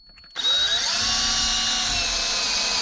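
A power drill whirs up sharply after a brief quiet start, then holds a loud, steady high-pitched whine as it pre-drills into wood in an attic.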